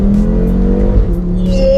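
A 500 BHP Audi RS3 in sport mode revs loudly up close, a steady deep engine drone with a rising tone, uninterrupted by talk.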